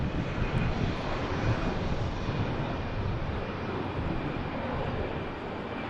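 A Boeing 787 Dreamliner touches down at Manchester Airport, its broad steady engine roar constant and fairly loud throughout, with no talking.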